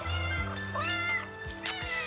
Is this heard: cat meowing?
yes